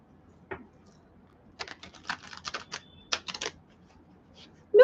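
Quiet, clicky keystrokes on a computer keyboard come in short irregular bursts with pauses between them, near and alone without talking.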